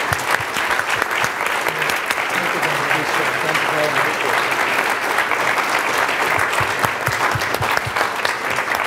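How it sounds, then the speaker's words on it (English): Sustained applause from a conference audience after a keynote at the World Affairs Councils of America national conference, dense even clapping that lasts for about nine seconds with some crowd murmur underneath. "let's give another round of applause"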